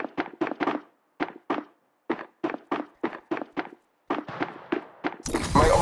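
Gunfire in Apex Legends Mobile, about fifteen sharp, evenly spaced single shots in a rhythmic volley with brief pauses, close and clear, ending in a louder noisy burst.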